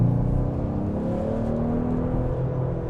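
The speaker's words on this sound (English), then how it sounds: "I can hear that engine getting us up to speed" A 2026 Ford Explorer ST-Line with a 2.3-liter EcoBoost engine accelerates, its steady engine drone rising in pitch as it builds speed, heard loud from inside the cabin with no talking.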